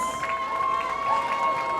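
Crowd cheering for the Regulators at a roller derby bout, a steady sustained roar of shouts and whoops from a large audience, loud and continuous for the whole moment.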